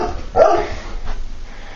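A dog gives one sharp, loud bark up close, followed by a quieter trailing yip, alone with no talking.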